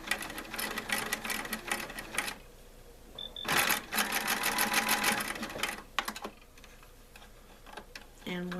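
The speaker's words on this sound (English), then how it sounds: "And we're going to stitch across the whole circle." A sewing machine stitches across a fabric circle for a small artisanal basket in several fast rattling bursts, with short pauses between them, close and clear.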